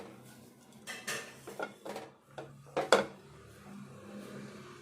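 Poha (flattened rice) dough being mixed by hand in a metal pot, with a string of clattering knocks and scrapes of utensil against the pot, moderately near and without talk.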